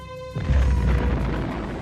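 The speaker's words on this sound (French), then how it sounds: "explosion nucléaire." Nuclear explosion sound effect: a quiet tonal lead-in gives way to a sudden heavy boom, followed by a deep, sustained roaring rumble that slowly fades.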